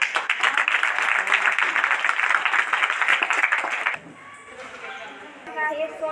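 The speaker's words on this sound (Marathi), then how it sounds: "सगळ्यात जास्त टाळ्या वाजवा" Applause from an audience of girls at a rangoli competition held under a national nutrition campaign in Dhanora circle, dense and steady for about four seconds, then cutting off to quieter room sound with a voice.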